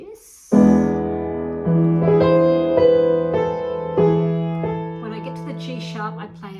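Piano playing a song, with the left hand adding low notes under the melody: a run of struck notes that ring and overlap, close and clear, with no talking over them.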